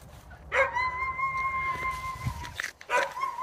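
Small dog barking and whining nearby, a high sustained whimpering cry followed by a few sharp yips near the end, in a quiet rural village setting.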